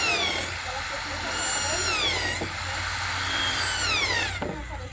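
A tool drills a hole for a homemade speaker box, a steady whining whir with sweeping rising and falling pitch that runs nearly continuously, with people talking over it.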